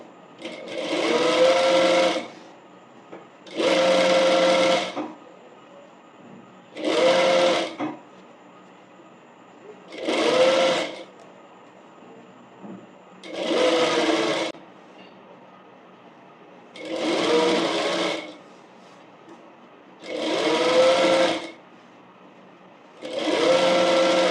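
Sewing machine stitching an umbrella frock, running in eight separate bursts of about two seconds each with short pauses between, close and clear with no talking.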